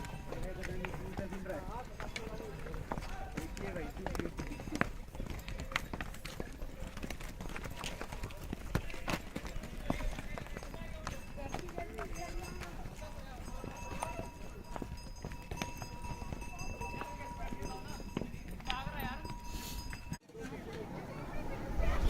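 Horses walk on a hill road near Shimla, their hooves clip-clopping in a soft, continuous patter under almost constant talk, with faint jingling of harness.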